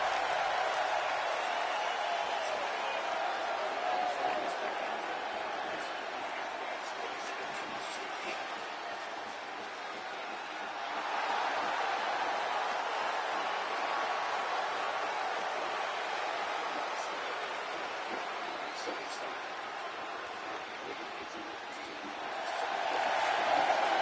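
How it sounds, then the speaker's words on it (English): Wrestling event crowd applauding and cheering, a steady broad wash of clapping that swells briefly near the middle and again at the end, heard at a distance with no clear talk. "the crowd showing a warm ovation of Peggy Sue"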